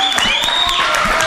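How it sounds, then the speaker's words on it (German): Worshippers at a church service clap together in a full, continuous burst, the many overlapping hand claps steady and close, with a held tone and faint crowd murmur underneath. "Wir klatschen für den Herrn der Herren."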